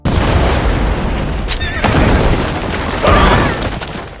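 A cartoon TNT blast from Family Guy, where dynamite is used to blow up a mountain for gold, comes as a loud, sustained rumbling roar with a sharp burst midway and another surge near the end, overlaid with voices.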